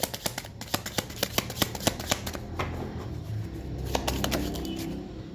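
Tarot cards shuffled for a reading, a quick run of crisp riffling snaps at a steady rhythm, close and clear, easing into a softer papery rustle toward the end.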